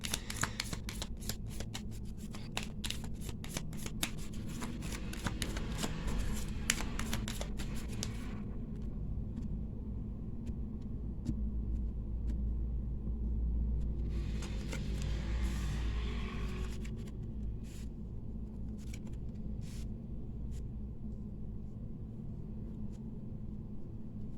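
Gypsy oracle (baralho cigano) cards being shuffled at close range, a dense run of crisp riffling clicks for several seconds, then softer sliding and handling noises under a steady low background hum.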